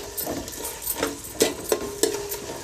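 Onion slices with salt and green chilies frying on a low flame toward golden brown, a soft steady sizzle broken by several sharp stirring scrapes of a spatula against the pan, close and moderately quiet.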